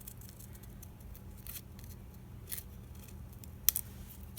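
Scissors cutting a paper doll from paper, soft scattered snips with a few louder crisp closes, one sharp snip near the end, quiet and near over a faint background hum, no one speaking.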